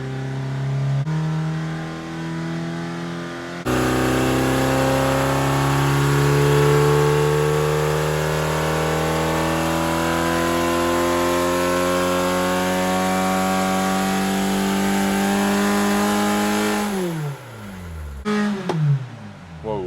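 A Ford Pinto engine with a carburettor runs at full throttle on a dyno held near 3,500 RPM, giving a loud, steady, close droning roar with strong harmonics that wavers and cuts out near the end.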